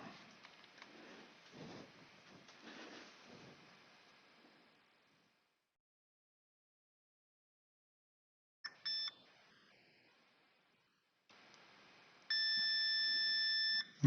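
Multimeter continuity beeps while testing an inductor coil on a dead Apex EB832 24V power supply: a short tone burst, then a longer steady electronic beep after quiet faint handling sounds.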